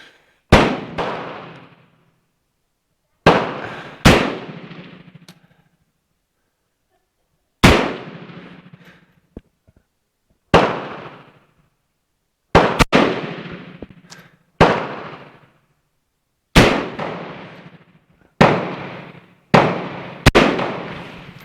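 A Yugoslavian SKS M59 rifle fires about a dozen loud, sharp shots at uneven intervals outdoors. Each crack is followed by a short echoing decay, with near silence between shots.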